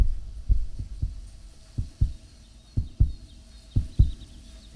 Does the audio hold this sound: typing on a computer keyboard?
no